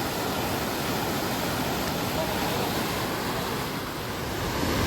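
Water from a lake rushes continuously in a dense, steady roar, like a strong stream flowing close by, with no pauses.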